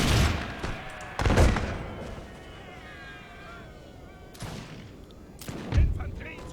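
Infantry musket volleys in the strategy game Empire Total War, with several loud crackling bursts of massed fire at irregular intervals over a dense battlefield din, while someone talks.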